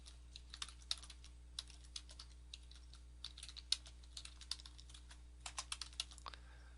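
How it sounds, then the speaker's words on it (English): Fingers type a web address on a computer keyboard, producing soft, irregular clusters of light key clicks close by in an otherwise quiet room with a low steady hum. "So you type in your web address"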